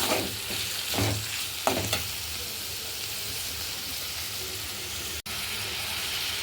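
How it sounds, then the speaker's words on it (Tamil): Tomatoes sautéing in a pan for a Tamil brinjal and drumstick kara kuzhambu, a close constant sizzle with a few spatula stirs and scrapes early on, then steady frying. "தக்காளி வந்து நல்லா வதக்கி போட்டேன்."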